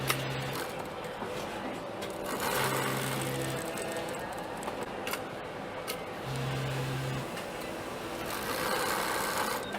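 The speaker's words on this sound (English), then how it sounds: "Now I'm going to top stitch the collar" Sewing machine top-stitching a bespoke shirt collar, a steady close mechanical whir with periodic hum changes as stitching runs continuously, with no talking.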